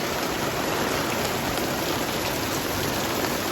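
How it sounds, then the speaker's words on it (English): An afternoon summer rain shower pours down on a wooded trail, a dense, steady hiss of falling drops that stays loud and unbroken throughout. "it looks like the afternoon summer rain showers caught up with us."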